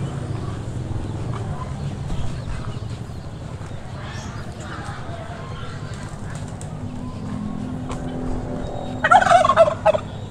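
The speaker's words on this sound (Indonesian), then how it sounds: "ada ayam kalkun" A turkey gobbles in a short loud burst near the end, over a busy outdoor background with faint voices.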